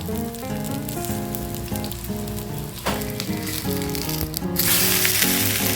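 A ragi and green gram dosa sizzles on a hot pan with a steady crackling hiss under background music, growing brighter and louder toward the end.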